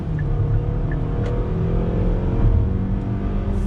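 A 2020 Kia Sportage compact SUV pulls away under throttle, its engine drone steady and fairly loud from inside the cabin with a low rumble throughout and no talking.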